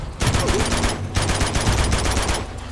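Rapid pistol gunfire in the Uncharted 2 video game, dense bursts of sharp shots in quick succession, loud and close, with a short pause near the middle before firing resumes.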